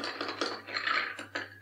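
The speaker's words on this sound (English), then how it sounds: "And we'll give it a little bit of a stir." A spoon stirs a Lipton iced tea pineapple mint julep cocktail in a glass, producing a few soft clinks and scrapes against a low steady hum.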